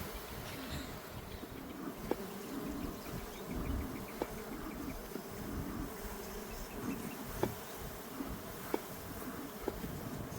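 Bees buzz around the outside of a beehive during a summer hive check, a steady close swarm drone with a few sharp clicks and knocks scattered through it.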